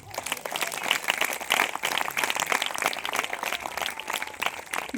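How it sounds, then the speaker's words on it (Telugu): A church congregation claps at an anniversary gathering, a steady, dense wash of applause running through the whole stretch at moderate, even loudness with no one talking. "ఇంకా గట్టిగా చప్పట్లు కొడదాం."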